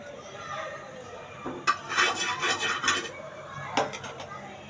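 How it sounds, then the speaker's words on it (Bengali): A knife slices fish into thin pieces, giving several short scraping and tapping strokes against a cutting surface, close and moderately faint, with talk nearby. "পাতলা করে মাছগুলো কাটছে"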